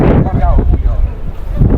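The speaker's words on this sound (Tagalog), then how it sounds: "Ang lakas ng hangin" Strong wind buffets the microphone on a cold mountain outing near Sapa, Vietnam, a loud continuous low roar with gusty swells and a faint voice underneath.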